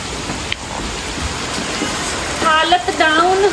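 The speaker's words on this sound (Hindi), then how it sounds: "और यहाँ बारिश शुरू हो गई।" Heavy rain falling in Rishikesh: a dense, even hiss of downpour for a couple of seconds, after which people talk over the continuing rain.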